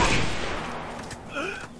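A single loud gunshot in Halo Reach SWAT cracks at once and fades, followed by a short burst of game sounds.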